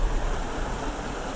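A desert creek flows steadily and close by, a broad, even rush of water with no pauses and no talk.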